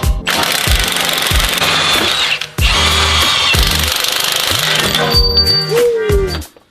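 A pneumatic impact wrench takes wheel bolts off a BMW 340i in loud, close bursts of rapid hammering, with two brief pauses and a short whine near the end.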